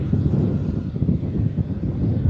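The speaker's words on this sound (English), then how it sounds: "So Jetstar 43 off to Denpasar. Just rolling on 16" A Jetstar airliner rolling for takeoff on runway 16 at Melbourne Airport, bound for Denpasar, giving a low, fluttering engine rumble with some wind buffeting, steady and moderately loud.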